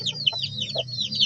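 A chicken being held in someone's hands clucks and chatters in quick, close bursts, with a steady low rumble of background noise throughout and no talking.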